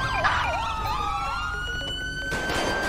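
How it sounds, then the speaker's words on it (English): Wailing police car siren in the LSPDFR police mod of a San Andreas highway patrol game, loud and continuous, sweeping up and down in pitch with a steady engine drone underneath. "I'll turn off my siren here"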